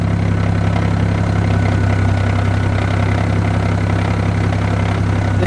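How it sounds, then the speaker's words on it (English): A 700HP single-turbo BMW 335i idles steadily nearby with its air conditioning off, and a faint clutch rattle sits under an even, droning engine hum with a low, constant pulse throughout. "See if you guys can hear the clutch rattle. You can kind of hear it a little bit."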